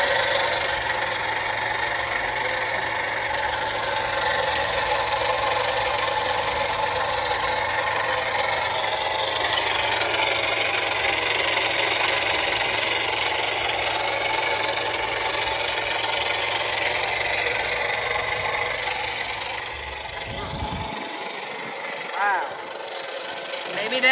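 A car engine with a non-charging alternator idles steadily in a repair shop after being cranked, a continuous close drone that cuts off near the end.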